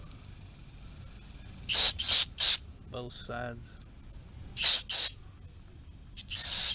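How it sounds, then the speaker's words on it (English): Short hissing bursts of spray cleaner shoot into the small holes of a carburetor, sounding in quick pairs and triplets with a brief spoken phrase between them. "Now I'm going to spray all these little holes"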